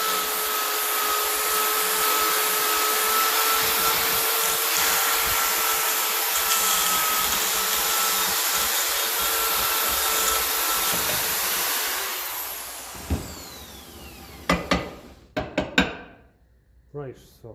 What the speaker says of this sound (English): Quick rub with the drill and then into the shop blaster.